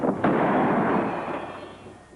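A single loud gunshot cracks in a western TV show, a sharp report that rings out and slowly decays over the following two seconds.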